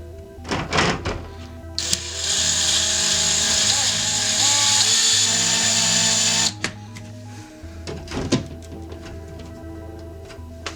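A power drill bores into hollow drywall to mount a Multiboard wall panel, giving a steady whirring drone of several seconds, framed by nearby knocks and handling clatter.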